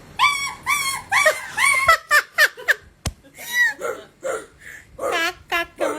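A child imitates a dog, yelping and whimpering in a string of short, high, wavering cries like a hurt dog, mixed with giggles and laughter from nearby voices.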